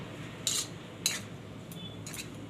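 A spoon clinks against a container while food colour is stirred into homemade tutti frutti: two crisp, close knocks, then a few fainter taps over a quiet background.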